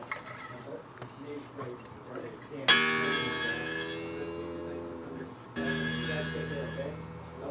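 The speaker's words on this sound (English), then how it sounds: "That doorbell is my front door." A front doorbell rings with a bright, struck chime followed by a second tone a few seconds later, each ringing out with long, fading harmonics; light household noise precedes it.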